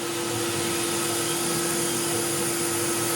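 A CNC mill cuts a slot in a knife leg with a 1/16 inch end mill, giving a loud, continuous high-pitched whine with a steady tone, unbroken for the whole stretch and with no talking.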